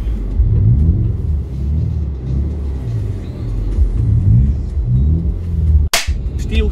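Subaru Impreza 4x4 driving slowly through town in fog and light snow, a steady low engine and road rumble from inside the car, with a single sharp click near the end.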